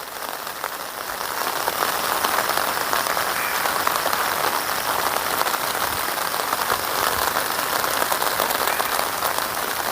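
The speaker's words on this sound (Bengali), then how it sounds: "বৃষ্টি কন্টিনিউ হচ্ছে, কিন্তু একেবারে হালকা বৃষ্টি, ঝিরঝির করে।" Steady light drizzle hissing on surfaces in a green village near the Feni border between India and Bangladesh, a soft continuous patter with no pauses and no voices.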